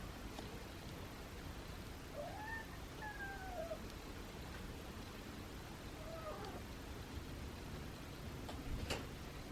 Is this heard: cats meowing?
yes